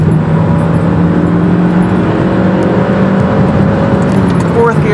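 A Mazdaspeed Protege accelerating hard through the gears, a loud, sustained engine drone heard from inside the car, with speech present.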